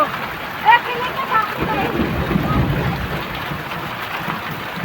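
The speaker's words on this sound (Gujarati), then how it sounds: "બહુ ફાસ્ટ વરસાદ ચાલુ થઈ ગયો" Dense, steady rain pouring down nearby, a broad continuous roar with a brief higher noise early on.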